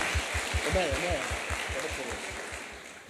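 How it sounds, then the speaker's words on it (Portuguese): Church congregation clapping during an evening worship service, a steady rhythmic patter of hands under a wash of crowd noise, with voices talking over it. "Uma salva de palmas"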